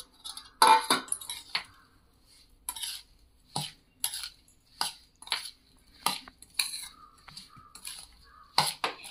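Green chilies are tossed and stirred in a bowl for a chili lemon pickle, with a spoon clinking against the side in a steady series of short, close scraping taps. Nobody talks.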